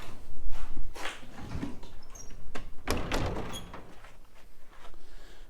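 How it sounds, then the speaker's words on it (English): An old door creaks and scrapes as it swings open and shut, with rattling knocks and a sharp bang midway, close by, in an old building on a rural property. "And the door still works."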